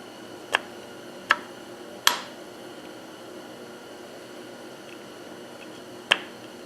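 Four sharp metallic clicks spaced unevenly as a timing pin goes into a Cummins engine timing cover, close by, over a steady low hiss, with no talking.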